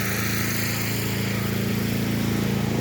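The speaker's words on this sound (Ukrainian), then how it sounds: "Працюють генератори біля кожного кіоску, біля кожного магазину." Generators run beside kiosks and shops in a city centre during a winter power outage, a loud, steady engine drone that never lets up.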